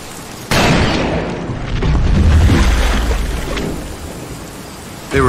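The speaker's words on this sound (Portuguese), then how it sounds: "Tá caindo chuva, hein?" Heavy rain pours over a sawmill setting in the Arizona shootout of the western shooter Call of Juarez Gunslinger, with a deep rolling thunder boom swelling through the middle and steady downpour hiss throughout.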